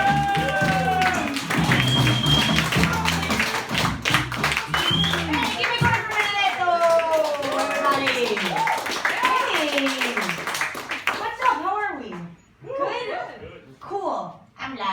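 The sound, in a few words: audience clapping and applause for a comedian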